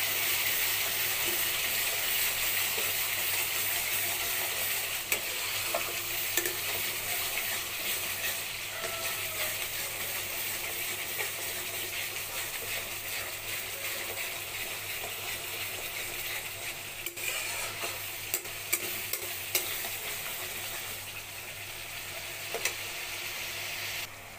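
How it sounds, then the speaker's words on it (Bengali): Coriander-leaf pickle with tamarind sizzles and hisses steadily in hot oil as it is stirred, with occasional soft scrapes of the spoon against the pan and no talking. "ভালো করে নেড়ে মিলিয়ে নেব।"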